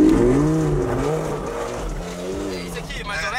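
Lamborghini spinning in a drift, the engine revving with rising and falling pitch, close and loud, with tyre noise and people talking over it.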